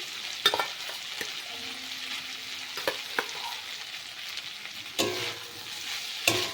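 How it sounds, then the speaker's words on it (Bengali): Pre-boiled potato is sautéed with cauliflower in a pan, a faint, steady sizzle broken by several sharp scraping knocks of a spoon stirring the pieces. "ভালো করে কফির সাথে কষিয়ে নিতে হবে"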